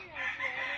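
A gold-feathered rooster crows close by in one short, loud, strained call at a farmyard in the Philippines, with no talk over it.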